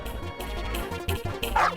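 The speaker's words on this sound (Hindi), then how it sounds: "भौंक क्या रहा है?" A dog barks and yips in short repeated bursts at close range during a playful test drive scene, with some whimpering mixed in.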